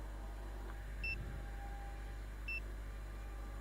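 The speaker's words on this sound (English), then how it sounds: "That's a filter alarm." A woodshop dust collector's filter alarm gives two short, high electronic beeps, spaced a second and a half apart, over a steady low hum of machinery.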